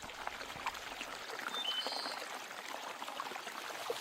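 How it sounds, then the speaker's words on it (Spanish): Falling water of a stream, a faint, continuous rushing hiss heard from a little distance with no talk. "Eso parece ser el sonido de una caída de agua."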